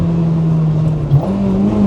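Steady engine drone with a brief rise in the middle from a Honda Integra Type R DC5 running an aftermarket intake, heard near and loud as it passes VTEC crossover, with no speech.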